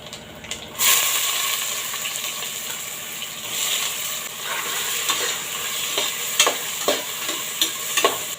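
Onions drop into a cooker of hot oil with cinnamon, cloves, cardamom and fennel for vegetable biryani, and the sizzle surges loudly. Steady frying hiss follows, with scraping stirs and clinks toward the end.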